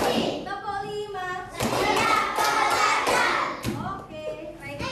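A class of children claps hands in unison in a series of firm, rhythmic claps, close and loud, with children's voices chanting along between the beats.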